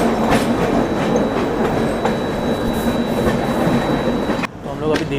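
The Howrah–New Delhi Rajdhani Express rushes past during a crossing, heard loud and close from an adjacent train as a dense roar of rolling wheels and rhythmic clatter that drops off abruptly near the end.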